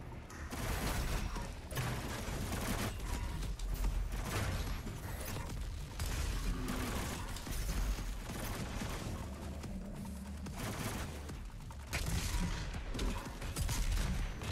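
Gunfire in the video game Doom Eternal comes as dense, loud, continuous bursts of blasts and mechanical clatter, pulsing in rapid volleys with only brief dips.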